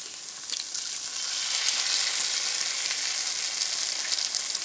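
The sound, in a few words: eggs cracked into pan, sizzling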